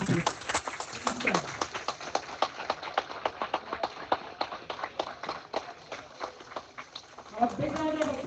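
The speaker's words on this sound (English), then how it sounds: "a big round of applause" Scattered, uneven clapping from a conference audience, fairly quiet and thin, with individual claps picking out a loose rhythm and brief voices rising near the end.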